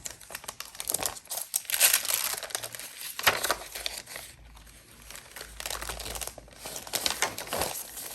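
Sheets of ledger paper are handled close up, crinkling and rustling in irregular bursts with short pauses between them for about eight seconds, and no one speaks.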